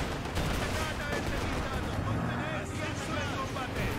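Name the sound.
gunfire from German units in Company of Heroes 2 video game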